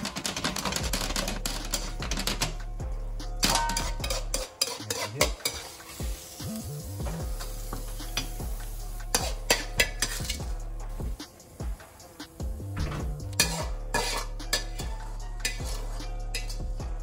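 A beef and celery mixture being stirred in a hot pan, with scraping utensil strokes, clinks against the metal and a continuous sizzle underneath, fairly close and busy.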